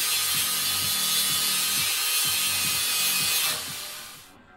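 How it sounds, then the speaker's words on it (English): Power tool cutting and grinding away steel brackets on a custom motorcycle frame, a steady loud whine with a rhythmic rattling pulse underneath that cuts off near the end. "I just started cutting more of those brackets away and grinding it away"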